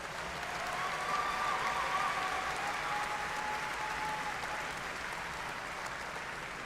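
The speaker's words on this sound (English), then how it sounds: "Let's give them a big round of applause." Sustained applause fills a hall at the SIU Carbondale 2022 spring commencement ceremony, a steady, even wash of many hands clapping for several seconds at moderate distance.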